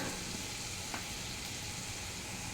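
Spices frying with ginger paste in oil for a Bengali green banana kofta curry, a faint, steady sizzle and hiss with a light stirring scrape, no talking.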